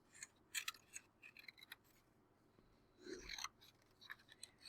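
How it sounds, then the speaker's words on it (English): Quiet, close snipping of scissors cutting paper into strips, a few short crisp cuts with pauses between them. "I'm going to cut some strips"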